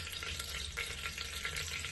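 Steady crackling sizzle of mustard seeds frying in hot oil, continuous and close, with a low hum underneath and no voices.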